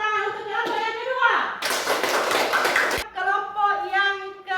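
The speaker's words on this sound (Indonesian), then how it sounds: "Mari kita berikan tepuk tangan untuk kelompok yang kedua." Students in a classroom break into a burst of clapping for the second group, a dense patter lasting about a second and a half, with children's voices chattering before and after.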